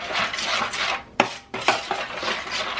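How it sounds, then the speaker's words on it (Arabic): Ingredients stirred together in a bowl with a utensil, a steady scraping and clinking of metal against the dish, close and alone, with a short pause and a sharp tap before mixing resumes. "نخلطهم مزيان مع بعضهم"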